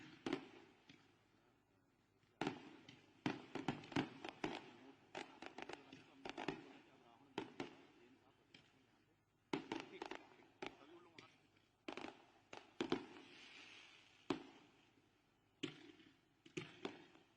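Dussehra festival fireworks at the WRS ground in Raipur, India, crackle and pop in dense, irregular bursts with sharp bangs, somewhat distant, while a voice talks faintly underneath.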